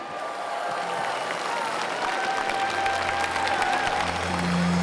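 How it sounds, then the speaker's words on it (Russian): A large congregation at a 2003 Christian crusade gathering in Moscow applauds steadily, a dense wash of clapping from a big crowd with some cheering mixed in and a few faint voices. "Аплодируйте Господу Богу."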